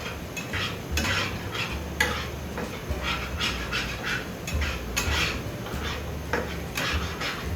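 Egg and macaroni being stirred in a pan, with steady scraping and clinking of a utensil against the metal and a soft sizzle underneath, near and fairly loud, with no talking.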